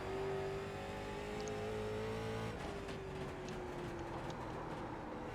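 A late model race car engine in the iRacing video game drones at steady high revs, a loud sustained whine that lifts slightly in pitch midway, heard alone without talk.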